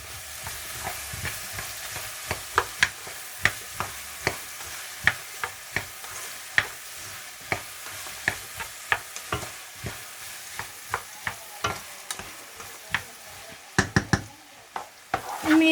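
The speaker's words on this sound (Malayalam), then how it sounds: "കുറച്ച് ഇളക്കുക." A pickle mixture with salt and turmeric being stirred in a pan over a low sizzle, a spoon clacking against the vessel in irregular sharp knocks that crowd together near the end.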